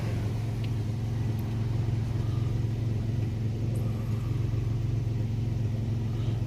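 A 2003 Ford Explorer engine idles cold, a steady, close, low rumbling drone that holds even and unbroken throughout with no talking.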